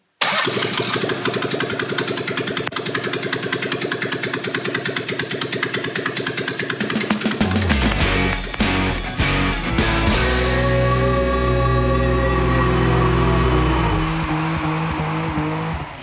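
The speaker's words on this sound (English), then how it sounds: "So with the engine running, it's time to focus on the appearance of the car." A restored Tjorven car's engine cranks and starts, then runs steadily at a loud, close idle with an uneven rumble, and no one speaks.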